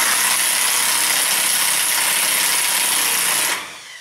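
A socket wrench tightening a 12mm wheel stud, heard as a dense, loud mechanical ratcheting buzz held steady for several seconds before abruptly cutting off into near quiet.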